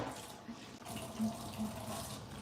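Running kitchen tap water pouring over a raw turkey being rinsed before deep frying, a continuous splashing rush with slight shifts as the bird moves under the stream.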